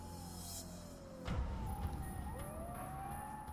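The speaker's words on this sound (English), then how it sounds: "I could faintly hear police sirens in the distance." A faint siren wails in the distance, its pitch sliding down and back up over a low rumbling background, from the video game Steins;Gate 0.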